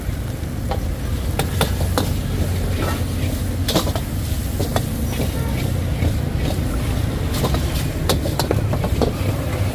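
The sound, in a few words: fried rice being stir-fried and sizzling in a wok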